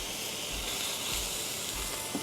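Three strips of bacon sizzle on a Wildfire grill, a steady, soft frying hiss with faint crackles that runs continuously and evenly, with no voices over it.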